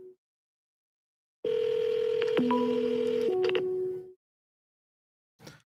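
Telephone tones while placing a call: a sustained dial tone lasting a few seconds, with short dialing beeps layered over it, then a brief faint tone afterward. The sound is clear and alone.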